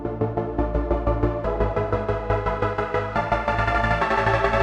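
A fat synth pad from the Chro-Nyx plugin, pulsed by a trance gate into a quick, even rhythmic chop, thick and bright with a steady beat throughout, heard without any voices.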